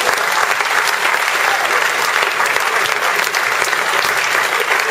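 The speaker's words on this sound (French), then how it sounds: "Je vous demande un tonnerre d'applaudissements pour elle." A crowd at an evening talent show bursts into loud, sustained applause, dense clapping that stays even and close throughout.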